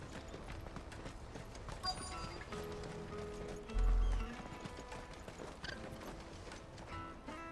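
Rhythmic clip-clop footsteps of a running chocobo in the video game Final Fantasy XVI over game music, steady pace, with a brief low thump partway through.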